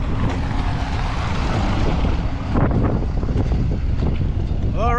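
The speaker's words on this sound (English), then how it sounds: "Pretty damn windy still anyway" Strong wind gusting through an industrial sector of Lachine, Montreal, roaring steadily and buffeting the microphone for the whole stretch, with a short voice near the end.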